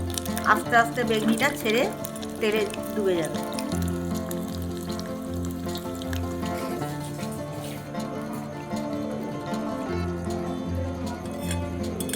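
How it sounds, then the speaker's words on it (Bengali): Eggplant fritters (beguni) fry in hot oil, with a steady crackling sizzle and occasional splatter close by. A voice talks over them throughout. "তুমি যদি গায়ে এরকম ধরে যায় তাহলে গরম তেল এইভাবে ছিটিয়ে দেবেন"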